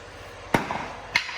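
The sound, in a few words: hammering on nuts of a Jeep Compass axle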